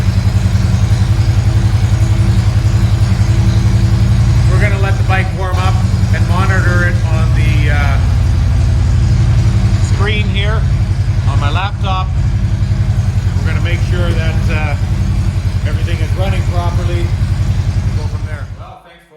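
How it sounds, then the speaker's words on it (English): A Harley motorcycle fitted with a Thundermax EFI module idles as it warms up, a loud, close, steady rumble that carries on almost unchanged before cutting off near the end, with someone talking over it. "We're gonna let the bike warm up"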